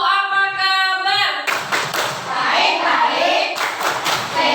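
A school class claps together in the 'tepuk apa kabar' rhythm, first a voice chanting, then rapid bursts of group hand claps loud and close in a classroom.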